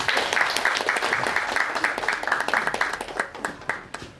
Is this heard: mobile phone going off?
no